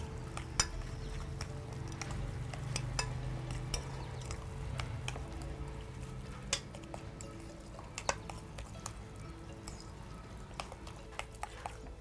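Onions, green chili and garlic being stirred and mixed in a pot, a steady series of light scraping clicks and utensil taps against the pan over a soft sizzling background, close and fairly quiet, with no talking.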